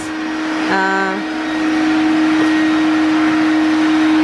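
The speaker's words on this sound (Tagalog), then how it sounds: "So, ngayon, vacuum na naman si Tami ulit." A household vacuum cleaner runs loud and close with a steady whine, a brief harmonic squeal near the start, then a sustained high-pitched drone to the end.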